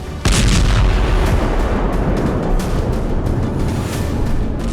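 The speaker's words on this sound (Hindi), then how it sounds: "गाजा में आईडीएफ ने भीषण एयर स्ट्राइक की।" Deep, heavy blasts from an air strike on Gaza, one sharp loud impact followed by a continuous rolling roar and booming rumble that stays loud and close throughout, with no voices.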